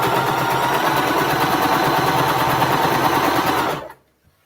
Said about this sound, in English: we're sewing the last one in here